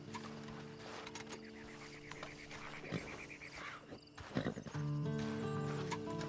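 A horse in the Red Dead Online video game clip-clops along and gives a loud whinny midway, hooves thudding under steady game ambience and a swelling music tone near the end.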